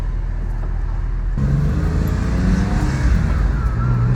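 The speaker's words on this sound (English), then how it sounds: "But the car runs great." A Porsche 996 with salvage history runs along the road, its engine and tire roar forming a steady low rumble that swells slightly partway through, with no voices.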